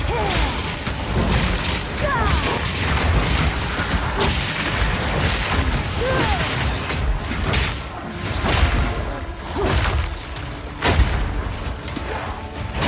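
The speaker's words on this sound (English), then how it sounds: "Whatever that is, it's constantly exploding" Constant explosions in the action game Path of Exile 2, dense repeated booms and crashes with whooshing spell effects, loud and close throughout over a busy combat din.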